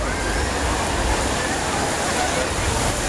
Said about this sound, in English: You cannot help but enjoy the sounds of the waves.